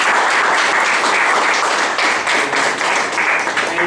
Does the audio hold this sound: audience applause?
yes